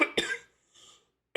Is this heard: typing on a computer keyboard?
no